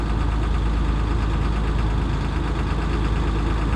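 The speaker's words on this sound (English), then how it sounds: "Sometimes you can do this, rev up the engine to actually help the pressure to climb." A truck engine held at a steady high rev to build air brake pressure, a loud, continuous low rumble and drone that stays close and even throughout, with no talk.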